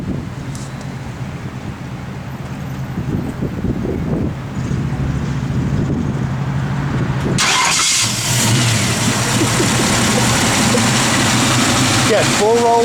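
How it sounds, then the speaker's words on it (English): A 1965 Ford Mustang with a roller motor idles faintly under ambient noise, then cranks and fires with a sharp jump in loudness and settles into a steady, close running rumble. "Motor sounds good, nice and tight."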